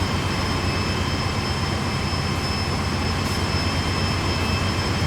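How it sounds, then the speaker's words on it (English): Trains run through Cajon Pass in a Santa Fe railroad simulation, giving a steady, continuous low rumble with faint high tonal whines, even and unbroken from start to finish with no talk. "There's one train going down"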